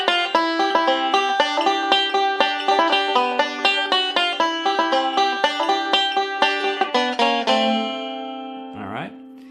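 Five-string banjo picking the C part of a tune, moving from a G to a D7th chord in bright rolling notes at a steady quick pace, ending on a ringing chord and a short scrape.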